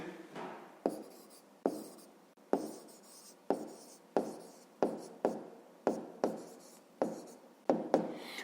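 A pen writes an answer by hand in a school maths exercise, with about a dozen short, regular strokes one after another, close and fairly quiet, with no talking.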